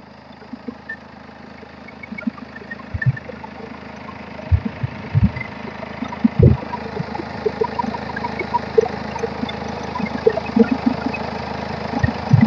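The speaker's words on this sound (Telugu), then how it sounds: "బండి అయితే ఇప్పుడు స్టార్టింగ్ లోనే ఉందండి" A 2014 Hyundai Verna SX 1.6 diesel idles steadily, with a constant low rumble and occasional small knocks and clicks. The engine is close and there is no talk.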